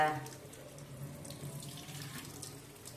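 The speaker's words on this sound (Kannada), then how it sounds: "ಈ ಥರ ಸ್ಟಾರ್ಟ್ ಮಾಡಿ ನೀರು ಹಿಂಗೆ ಬಿಟ್ಬಿಡೋದು" Tap water runs steadily over puffed rice (churmuri) for a savoury evening snack, a continuous moderate splashing rush that holds even throughout.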